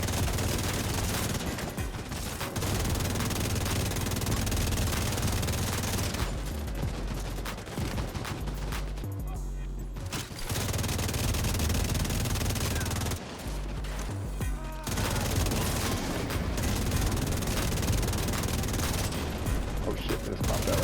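Turret gunfire in a first-person shooter match, sustained bursts of rapid automatic fire that run nearly nonstop with a few brief gaps, loud and close, with a voice talking over it.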